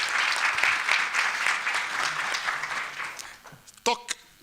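Audience applause at a youth symposium, a steady dense clapping that fades out near the end, followed by a few brief louder knocks and handling sounds.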